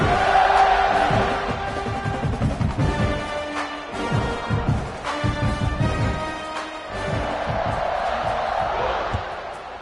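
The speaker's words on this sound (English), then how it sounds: "this crowd is buzzing after that last score" Stadium crowd at an SMU vs UH college football game, a loud, continuous rumbling buzz with swelling roars and shouts, heard under a commentator talking.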